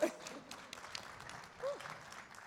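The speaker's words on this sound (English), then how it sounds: "Let's give a warm round of applause to this dynamic panel" An audience at a luncheon panel applauds, a soft, distant patter of clapping that is faint and brief, with a little voice sound mixed in.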